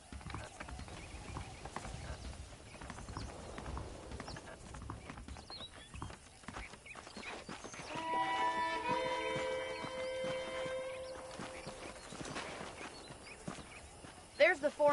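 Horse hooves clip-clopping in the Red Dead Redemption western game, a steady walking rhythm running beneath a voice, joined midway by a sustained musical tone.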